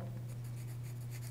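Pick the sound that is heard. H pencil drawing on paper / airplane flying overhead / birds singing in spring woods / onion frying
H pencil drawing on paper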